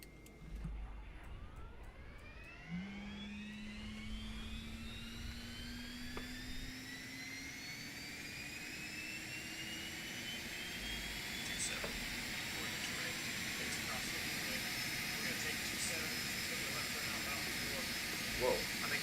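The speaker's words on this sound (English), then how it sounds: "We're going to go ahead and start engine 2 on the GPU first and enjoy the engine start sounds." An Embraer Phenom business jet's number 2 engine starting on a ground power unit: a rising turbine whine climbs steadily in pitch over a broad airy hiss, swelling louder as the engine spools up, with no voices.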